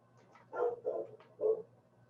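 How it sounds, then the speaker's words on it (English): A dog barks three times in a loose, uneven rhythm, fairly close but not loud, picked up over a remote connection during a state land use commission hearing, with no talk over it. "Commissioner Chang, is the barking noise coming from Your location?"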